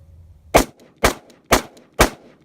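An AR-15 rifle gives four sharp, loud reports in an even rhythm about half a second apart, close by with quiet gaps between.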